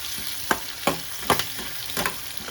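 Masala roasts in a pan for a kaju paneer butter masala, giving a constant bright sizzle cut by about five rhythmic spatula scrapes and stirs at an even pace, close and clear with no voices.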